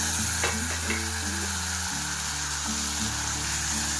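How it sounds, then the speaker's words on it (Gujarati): Whole spices for a vegetable pulao temper in hot oil, a loud, dense, continuous sizzle and crackle heard close up without any talk, under a steady low hum. "અને બસ જો હવે એનો વઘાર છે એ કરી લઈશ."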